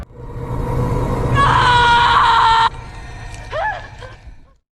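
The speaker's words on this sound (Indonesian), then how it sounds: "lalu ia pun berteriak." A person screams loudly for about a second and a half over a rumbling, noisy background, followed by brief squeaky cries before the sound cuts out.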